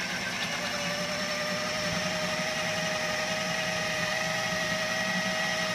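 A food mixer runs steadily on low speed, churning a thick beer cheese mixture, with a continuous motor whine and hum held at an even level from start to end.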